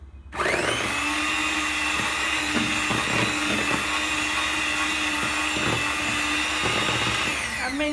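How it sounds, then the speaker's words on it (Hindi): A hand blender whirs steadily in a jug, mixing bread, milk and cardamom for kulfi; the motor starts abruptly and holds a constant loud whine with slight changes in load as it churns. "अब मैं इन सब चीज़ों को हैंड ब्लेंडर से अच्छी तरह मिक्स कर लूँगी"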